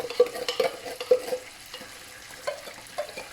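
Tomato sauce for pasta al pomodoro bubbles and sizzles over high heat in a pan, with a series of spoon-stirring scrapes and taps close by and a softer simmer between them. No one speaks.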